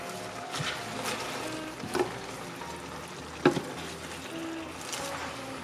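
Tofu, Chinese broccoli, napa cabbage and bean sprouts stir-fried in a full pot for vegan lo mein, a soft continuous sizzle with occasional louder scraping knocks of a utensil mixing.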